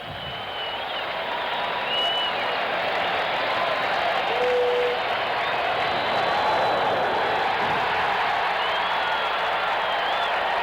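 A packed New York Mets home crowd at a 1985 baseball game rises and roars in sustained, steady cheering, with applause and scattered whistles and whoops hanging over a dense wall of crowd noise throughout.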